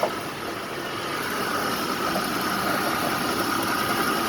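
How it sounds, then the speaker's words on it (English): A 2004 Dodge Ram 1500 SLT with a 5.7 liter Hemi engine idles steadily, a continuous even rumble with a faint high whine on top, close and fairly loud. "My 2004 Dodge Ram. So my engine is running,"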